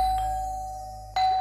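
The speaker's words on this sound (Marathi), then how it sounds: "बेल वाजली कोण आलं बघा" A household doorbell rings with a single sustained electronic tone that decays slowly, followed by a second strike near the end, clear and close with no talk over it.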